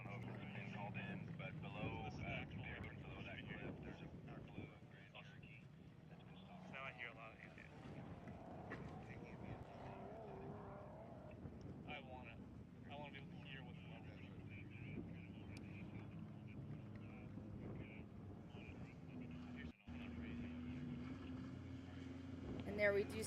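Racing boat engines drone on continuously in the background over nearly half a minute, a steady low roar with a commentator talking over it throughout.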